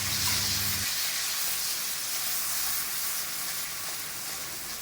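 Water poured into mustard paste in a hot pan while cooking parshe fish, producing a loud, steady broadband sizzle and hiss that fades slightly, close up with no talking.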